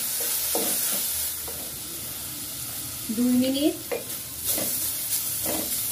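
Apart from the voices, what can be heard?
frying chopped carrots, sliced tomato and green chillies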